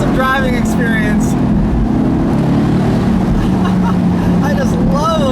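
A 2018 Mercedes-AMG GT C Roadster driving with its engine roaring loud and continuous, rising and falling through revs amid heavy wind rush, with someone talking over it.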